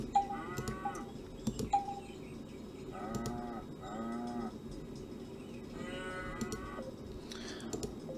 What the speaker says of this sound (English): How many cows can I put?